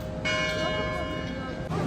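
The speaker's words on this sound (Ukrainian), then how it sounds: "Ось дзвіниця. Ось тут там дзвони." A church bell rings with a sustained, shimmering tone, steady and fairly loud against a low background rumble.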